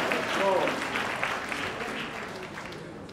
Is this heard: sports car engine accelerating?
no